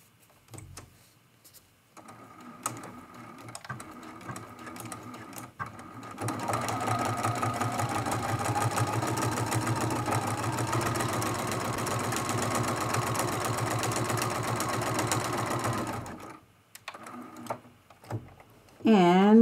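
A sewing machine quilts jump stitches on an art quilt, starting with a few short bursts, then running in one long steady whir for about ten seconds before stopping, close up with someone talking around it.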